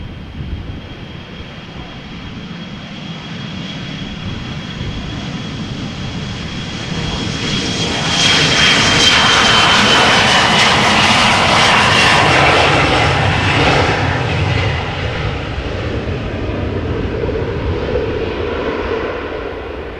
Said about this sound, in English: This is KLM flight 1073 going to Manchester.